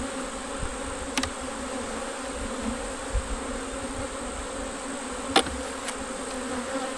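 Honey bees swarm around an open hive with a dense, steady, close buzzing drone, broken by a couple of faint clicks and knocks.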